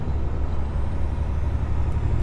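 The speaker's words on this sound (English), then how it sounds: "Truck coming the other way." A truck rolls past in the opposite direction on a tight hairpin of a mountain road, its steady low engine rumble and a faint air-brake hiss filling the whole stretch at close range.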